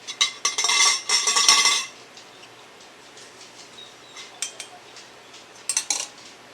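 Glass canning jars of green beans clink and rattle into a canner in a dense burst over the first two seconds, followed by quieter scattered taps and a final cluster of clinks near the end.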